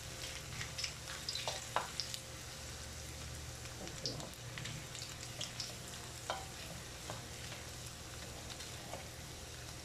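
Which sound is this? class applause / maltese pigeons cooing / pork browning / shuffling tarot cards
pork browning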